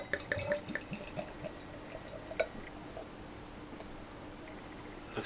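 Black IPA beer pours from a dual-pour tap into a glass at a bar, with soft, irregular trickling and splashing sounds at close range and no talking.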